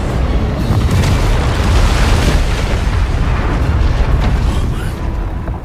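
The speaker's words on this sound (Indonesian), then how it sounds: "Badai pemusnahan meledak dahsyat, menghancurkan apapun dalam radiusnya" A colossal destruction-storm blast in the Soul Land 2 animation thunders as one continuous, loud roaring boom, dense and unbroken for several seconds before easing slightly at the end.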